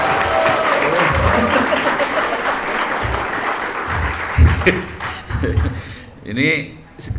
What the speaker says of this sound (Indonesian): Tepuk tangan dulu buat Solok Selatan.